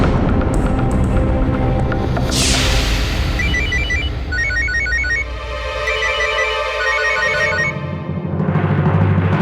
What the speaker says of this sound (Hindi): घर से फोन है।